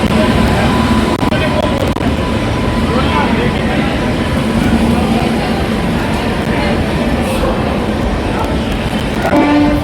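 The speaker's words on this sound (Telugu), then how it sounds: "మొత్తానికి ఫైనల్గా అయితే ట్రైన్ వచ్చింది." A passenger train pulls into Kacheguda railway station in Hyderabad, its loud rumbling and rolling wheels filling the platform amid a busy crowd of voices, with a brief horn-like tone near the end.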